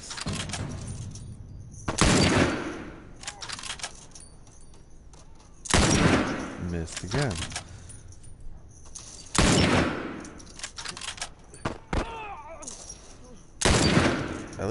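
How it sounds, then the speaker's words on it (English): Gunfire in The Last of Us: loud sniper-style shots crack out in isolated bursts every few seconds, each with a short echoing tail, with quieter game ambience and occasional faint voices between them. "Now I got to snipe out the guys that are shooting at him."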